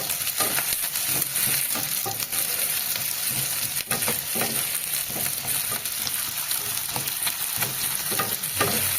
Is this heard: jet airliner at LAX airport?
no